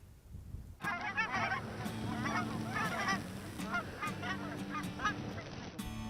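A flock of geese honks continuously in the Nebraska sand hills, a dense chorus of repeated overlapping calls that starts abruptly and carries on steadily, fairly close and loud, with no talking.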